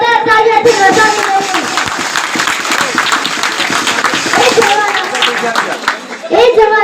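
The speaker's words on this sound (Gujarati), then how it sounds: "એ જવાનો માટે આપણે એકવાર જોરદાર તાળીઓથી વધાવી" An audience claps loudly for army soldiers at a Gujarati gathering, sustained applause filling most of the stretch while a speaker's voice and children's voices carry over it.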